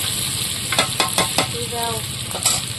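Whole garlic cloves hit a pan of frying chicken masala made with ground spices, producing a loud close sizzle broken by several quick stirring scrapes in a rapid burst.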